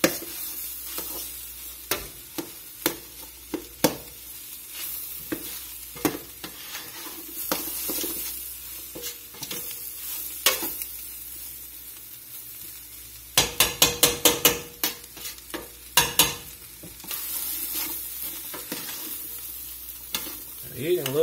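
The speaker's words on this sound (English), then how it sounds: "we're going to let all this cook together a few minutes until all of these seasonings are nice and hot and releasing all their flavor" Chili seasonings sizzle hot in a pot while a spoon stirs and scrapes, with loud knocks against the pot and a quick rattling burst of stirring partway through, no voices.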